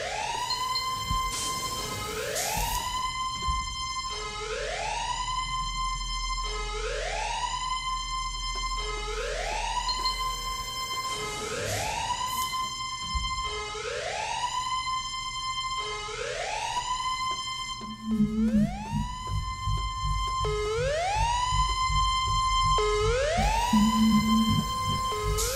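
A repeating electronic alarm wails in rising sweeps about every two seconds, loud and steady, on board a spacecraft capsule nearing ejection, with a low rumble underneath and faint extra tones joining near the end.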